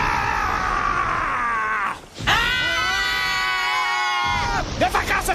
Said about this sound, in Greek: κραυγή!